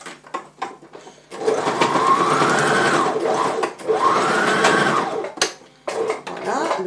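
A sewing machine stitching through a belt beside its buckle runs in two sustained whirring bursts of rapid needle strokes, close and loud, with short clicks and handling noises between and around them.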